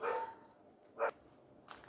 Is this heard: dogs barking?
yes